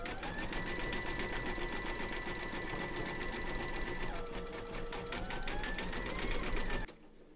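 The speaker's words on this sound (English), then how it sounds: "Pop your hoop into your machine and stitch round number six" An embroidery machine runs a steady zigzag stitch to join two pieces of a large surfing Santa design in a hoop, a continuous whirring buzz with shifting motor pitch that stops abruptly near the end.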